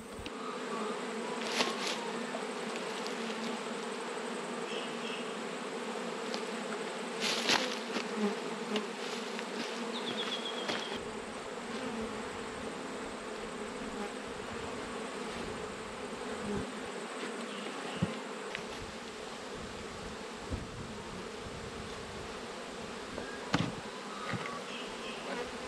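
Honey bees buzzing steadily around an open hive during an autumn inspection, a dense continuous hum with occasional louder passes of bees flying close by, no talking.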